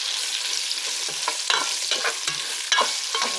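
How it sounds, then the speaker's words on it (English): Chopped onion fries in a hot pan, a steady close sizzle broken by repeated scraping stirs of a utensil, with no voices. "we just fry a bit this onion"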